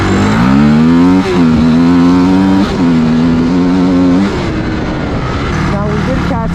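A 250cc dirt bike engine revs hard in second gear, loud and close, its rising buzzing drone stepping up in pitch through a couple of surges before easing off, with wind noise and talk over it.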